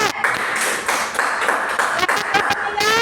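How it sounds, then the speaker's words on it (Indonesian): Classmates applaud a group's poster in an Indonesian school classroom, a dense, steady wash of many hands clapping together for about three seconds, with a few bright ringing pings near the end. "Tepuk tangan dong buat kelompok 3"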